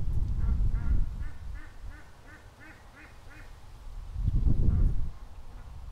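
A flock of ducks gathered along a creek quacks in a steady, rhythmic chorus of repeated calls, heard at moderate distance over a low rumbling outdoor wind.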